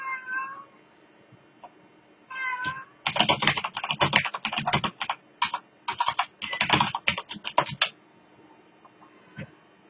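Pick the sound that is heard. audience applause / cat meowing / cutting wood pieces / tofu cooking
cat meowing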